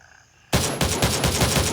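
Rapid bursts of video game gunfire break out suddenly after a quiet start, repeating loud and close in a steady rhythm with no talk over them.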